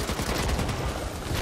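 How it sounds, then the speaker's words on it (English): Gunfire fills a zombie shooter match of Back 4 Blood, with a sniper rifle shot at a barrel blended into dense, continuous shooting that stays loud and steady throughout. "I just sniped that barrel"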